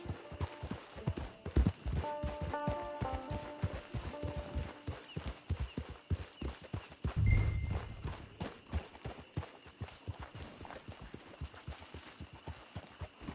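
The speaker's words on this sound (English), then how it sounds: "Get your horse." Horse hooves clip-clop in a steady walking rhythm in Red Dead Redemption 2 Online, close and clear, with a brief harness jingle and a soft snort partway through.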